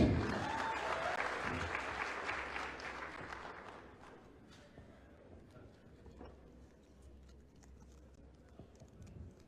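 An audience applauds after a live musical performance at a public lecture event, with loud, dense clapping at first that thins out after a few seconds into scattered, fading claps and quiet room noise.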